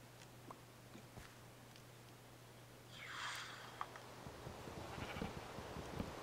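Sheep bleat in a video game, a short burst of bleating standing out from quiet ambient game sound, followed by faint scattered ticks.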